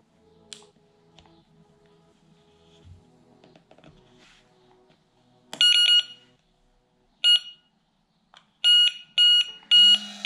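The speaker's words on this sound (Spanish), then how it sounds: "¿Veis? Está sonando la alarma y está confirmando con el receptor." A Delkim carp-fishing bite alarm and its receiver beeping, several sharp electronic tone bursts of varying length, loud and close after a quiet stretch of faint handling noise.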